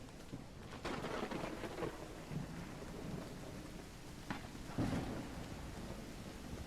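Thunder and rain in the horror video game Call of the Elder Gods, a steady hiss of rainfall with deep rolling rumbles swelling twice, soft and distant-sounding, with no talking.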